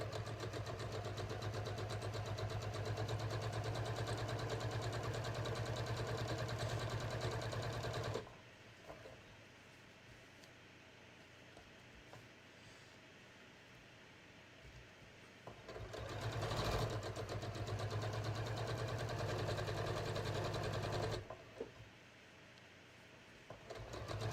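Sewing machine top stitching denim for jeans, two sustained runs of fast, even stitching, the first lasting about eight seconds, then a pause, then a shorter run, with quieter handling sounds in between.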